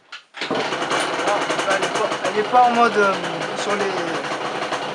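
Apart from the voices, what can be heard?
motorcycle engine starting and idling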